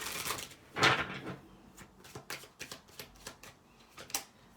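Tarot cards are shuffled and drawn close up, with a run of quick papery riffles and soft flicks and slaps as cards are pulled, and no talking.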